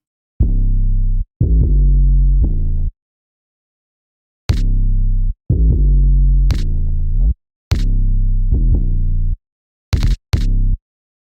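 Deep booming 808 bass notes land in a syncopated pattern, each punctuated by a sharp kick drum hit, with short pauses between phrases.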